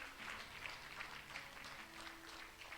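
A church congregation applauds in steady, dense clapping that stays faint and fairly distant throughout, with no clear voices over it.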